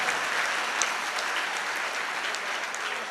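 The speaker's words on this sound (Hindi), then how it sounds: "इस बात के लिए एक जोरदार ताली बजाइए आप सारे लोग।" Audience applause at a poetry gathering, steady dense clapping from many hands, moderately distant and fairly even in loudness throughout with no talk over it.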